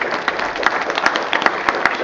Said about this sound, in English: Ashley, give her a nice round of applause.